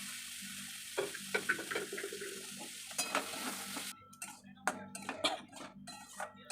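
Boiled potatoes frying and being stirred into spice paste in a pan for egg curry, with a steady sizzle broken by scraping spatula strokes and clinks, close up.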